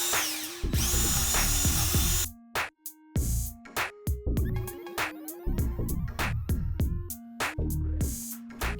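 A power drill runs in repeated bursts of varying speed, winding up and down as it drives 3/8 bolts into the corners of a wooden gate, loud and close with short pauses between pulls of the trigger.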